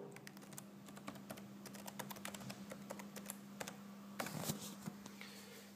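A password being typed on a standard computer keyboard attached to an eKoore Python S3 machine: a fast, uneven run of close, crisp key clicks, heard alone with a faint steady hum beneath.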